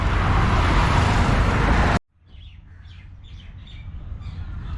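Road traffic passes on newly built roads: a loud, dense roar of passing vehicles cuts off abruptly, then a softer vehicle rumble slowly builds again while birds chirp over it.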